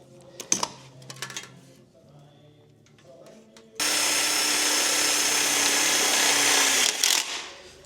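A power drill drives self-tapping screws near the heater core of a 1977 Dodge, with a few light taps and clicks, then a steady, close whir for several seconds that stops abruptly.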